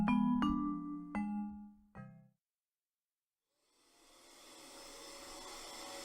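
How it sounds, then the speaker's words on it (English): A household vacuum cleaner in a radio drama scene starts up after a few ringing chime notes and a moment of silence, its airy whirring hiss swelling and then holding steady. "turn that vacuum off for a minute"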